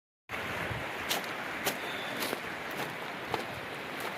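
Fast mountain water rushes steadily at Moola Chotok waterfall in Balochistan, a dense, unbroken roar starting abruptly after a brief silence, with a few sharper splashes or knocks on top.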